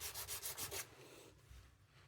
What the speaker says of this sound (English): I'm just using 240 grit sandpaper and just sanding